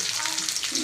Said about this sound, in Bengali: এদিকে ভাজা হচ্ছে